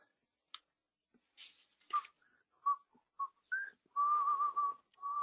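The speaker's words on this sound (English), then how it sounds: "You're just whistling there." A person whistles a short, halting tune close by, with scattered brief notes building to a longer sustained pitch near the end.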